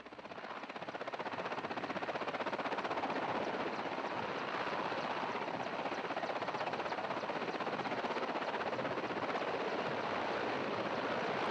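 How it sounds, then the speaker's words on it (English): Helicopters take off in snowy, low-visibility conditions in central Kazakhstan, their rotors giving a loud, dense, continuous roar that holds steady throughout with no voices. "As you can tell just from the helicopters taking off"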